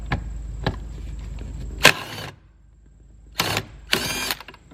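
A compact Matco power tool quickly spins a bolt out during C4 ignition work. Three short, loud whirring bursts sound up close, separated by quiet gaps.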